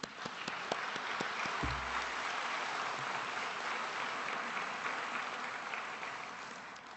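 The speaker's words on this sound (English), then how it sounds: "So give yourselves a round of applause." Guests at an awards dinner give sustained applause, a steady wash of many hands clapping that stays even across the room before slowly tapering off, with faint voices beneath.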